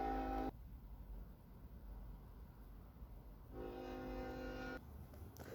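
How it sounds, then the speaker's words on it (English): A loud train passes close by, its horn sounding in bursts at the start and again near the end over a continuous rumble of rail cars. "That was just a train, just super loud."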